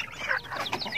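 Native chickens clucking on a farm, a brief flurry of close, overlapping clucks and squawks from several birds.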